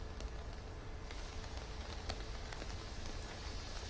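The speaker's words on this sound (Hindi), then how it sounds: "लगातार बारिश तो हो ही रही है" Steady winter rain falls in the mountains of northern India, a continuous dense hiss with scattered distinct drop taps throughout and no voices.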